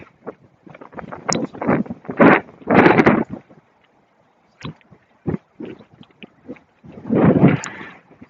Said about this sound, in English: There's so much wind out here